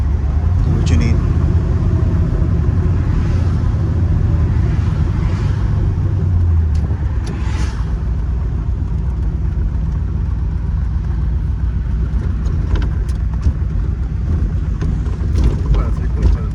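A 1969 Chevrolet Corvette with a numbers-matching engine and four-speed gearbox cruises along, a steady low rumble filling the cabin throughout while people talk briefly over it.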